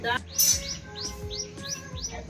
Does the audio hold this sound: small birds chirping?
yes